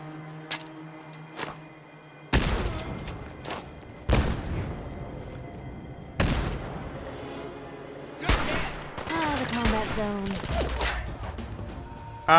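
A victory rifle fires in Fallout 4, sharp loud single shots spaced a couple of seconds apart, each ringing out with a booming tail, and a few quieter shots and impacts fill the gaps.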